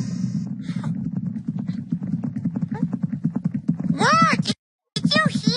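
Horse hooves clip-clop in a quick, steady rhythm, followed by loud whinnying neighs near the end, with a brief silent gap between them; no speech.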